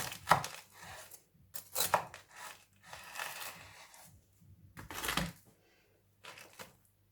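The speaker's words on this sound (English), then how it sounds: "you can cut the edges off as well" A knife slices the edges off a Korean street-food style potato salad toast in several short, crisp bursts of cutting through fried bread, close and fairly quiet with pauses between strokes.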